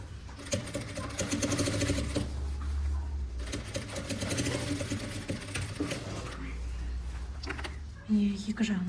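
A sewing machine stitches a vest in steady, rapid mechanical runs that pause and restart, close and clear, with a voice speaking between stretches.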